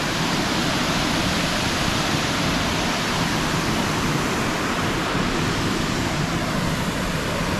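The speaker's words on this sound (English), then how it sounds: "you can see the water is really coming down hard and fast" Flooded river rushing hard and fast through a waterfall campground, a loud, steady broadband roar of churning water that stays constant throughout with no other sounds.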